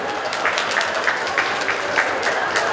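Steady applause from a crowd at a festival in Changnyeong, South Korea, dense clapping filling the whole stretch at a fairly loud, even level.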